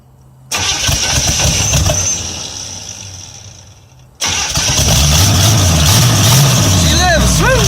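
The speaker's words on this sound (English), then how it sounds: "Let's see if she starts. First attempt after the Port Hope Truck Derby." A battered derby truck's engine cranks and catches after a truck derby, running briefly, dropping out, then restarting and settling into a loud steady idle, with a person talking over it near the end.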